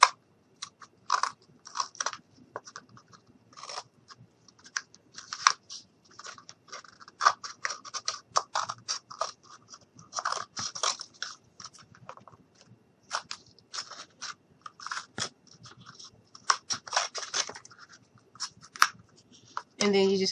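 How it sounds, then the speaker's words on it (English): Scissors snip repeatedly through the material for a doll's shoe soles, giving close, crisp cuts in irregular bursts with short pauses between them. "we're just going to cut these out"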